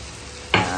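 Ginger and garlic sautéing in a pan, a quiet hiss that suddenly swells into a louder sizzle and stir as ingredients are moved around.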